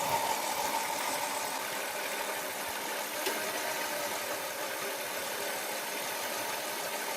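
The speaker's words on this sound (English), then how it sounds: "now that the engine's running and the air conditioner is on" A car engine idles steadily with the air conditioner running, a continuous even hum with a constant fan-like hiss that stays level throughout, no voices.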